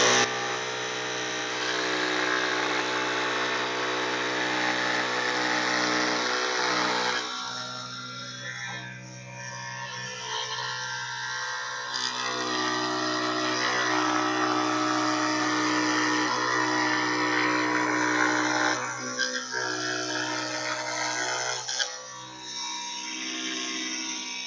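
A saw blade cuts wooden pieces for a salt shaker project, a steady loud motor whine with dense harmonics that dips briefly a few times as the wood is pushed through. No talking.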